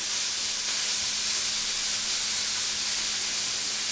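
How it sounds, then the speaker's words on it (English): Beef searing on a hot cast iron pan gives off a steady, even hiss that holds from start to finish with no talking. "Anytime I throw any type of beef or a steak on a hot cast iron pan, let it sit there for a while."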